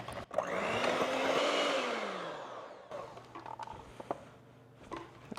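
An electric mixer whisks egg whites with a little vanilla for angel food cake, a loud close whine that rises and falls, then stops and gives way to clinks and knocks.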